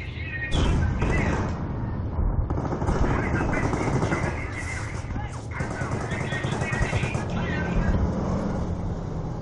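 Rapid machine-gun bursts and gunshots from a Company of Heroes 3 vs 3 battle, dense and continuous, loud and close, with brief gaps, heard alongside someone talking.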